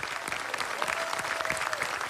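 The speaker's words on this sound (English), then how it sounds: "Please give these men and women a special round of applause." Audience at a Veterans Day celebration in Gatlinburg applauding veterans, a fairly quiet, even spread of many hands clapping across the whole stretch, with a faint steady tone running under the middle.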